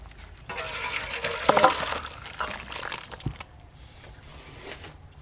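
Boiled potatoes and pointed gourd are poured out in a home kitchen, making a splashy watery rush with a few clinks of a pot, mostly in the first half, then quieter rustling.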